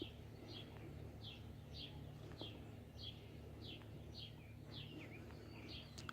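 A tiny baby bird about a week old gives a run of thin, high chirps repeated in a steady rhythm, faint against a low background hum.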